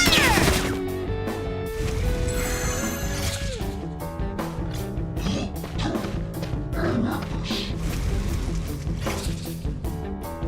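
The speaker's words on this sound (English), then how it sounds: "And yeah, we'll shoot those guys." Rapid gunfire crackles through a Persona 5 Tactica battle, dense bursts of shots layered over steady game music and tonal effects, continuous and fairly loud throughout.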